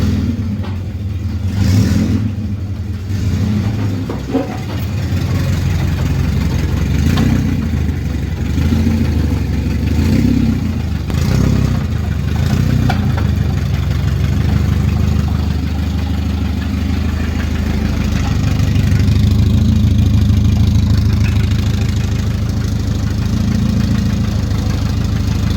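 The FJ20 engine of a Nissan 280ZX drift build runs steadily nearby, a continuous idle marked by periodic surges and an uneven, knocking undertone.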